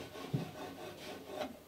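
Wood being trimmed for a boat's centreplate case makes soft, faint rasping and rubbing strokes, with a couple of slightly sharper scrapes, close by and without talk.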